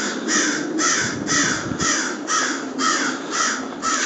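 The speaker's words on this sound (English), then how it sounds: "Some crows nearby." Several crows caw nearby on a snowy winter morning, a steady series of harsh calls in regular bursts, clear and fairly loud over a quiet outdoor background.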